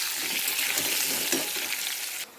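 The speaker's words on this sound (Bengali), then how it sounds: "ওদিকে আলুগুলো লাল লাল করে ভাজা হতে থাকুক" Potatoes frying in hot oil with a little turmeric, a dense continuous sizzle up close with faint stirring clicks, cutting off sharply just before the end.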